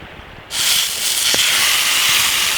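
Steak hitting a hot pan outdoors at a riverside breakfast: a sudden loud, steady hiss that starts abruptly and holds at full strength, close and bright.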